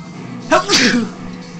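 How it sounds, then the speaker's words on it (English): A single sharp human sneeze, close and loud, with a quick intake and explosive burst during Crazy Taxi gameplay on PS3. "Sorry, I sneezed."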